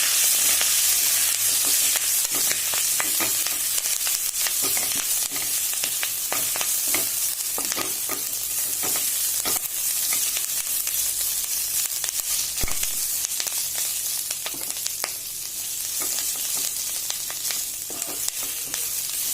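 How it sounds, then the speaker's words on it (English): Fresh moringa (drumstick) leaves stir-fried in a hot pan for tuvar dal, with loud, dense sizzling and crackling splatter throughout and intermittent scraping of the stirring utensil. "It's going to splatter a lot. And I'm going to stir fry this."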